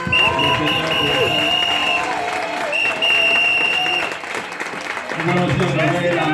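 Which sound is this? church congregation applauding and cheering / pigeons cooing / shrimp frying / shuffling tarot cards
church congregation applauding and cheering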